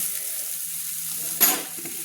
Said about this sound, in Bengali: একটু হালকা করে ভেজে নিচ্ছি, দিয়ে খুন্তি দিয়ে নেড়ে নিচ্ছি